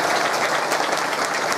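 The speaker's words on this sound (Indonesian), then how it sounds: "Tepuk tangan untuk santri." An audience at an Islamic religious lecture applauds students with dense, steady clapping that fills the space evenly and loudly throughout the short moment.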